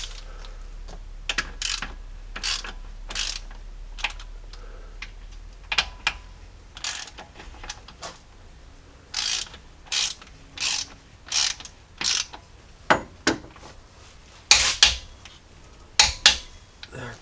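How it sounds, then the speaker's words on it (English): Ratchet tightening the oil pan bolts on a Jeep 4.0L inline-six engine during an oil pan gasket and rear main seal job, giving repeated bursts of close, sharp clicking with short pauses between them. "Now I'm going to evenly tighten these down and then do a final torque of 80 foot-pounds."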